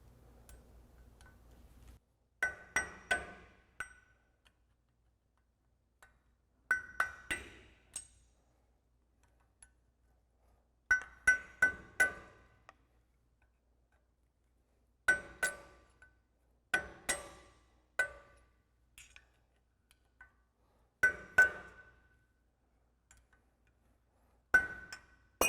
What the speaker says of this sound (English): So I've got a flathead screwdriver and a hammer. I'm just going to work my way around until it pops off.